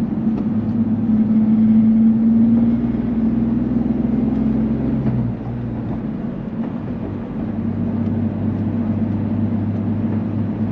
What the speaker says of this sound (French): nous voilà repartis.